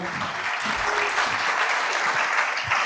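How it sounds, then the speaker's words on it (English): An audience at a welcome reception held at the University of San Diego claps steadily, a brief continuous burst of many hands at even loudness. "Let's give them a round of applause."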